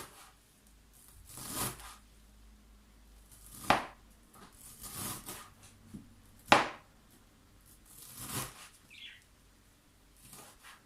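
Knife chopping fresh parsley finely for Syrian tabbouleh salad, a few separate soft cuts on a board spaced a second or two apart, quiet and close with no talking.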